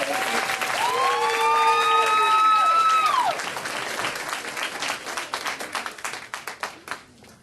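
A school audience at a Locks of Love event claps warmly, steady applause that thins into scattered claps and fades out, with a voice talking over the start.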